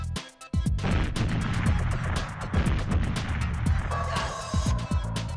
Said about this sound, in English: And there's a grenade.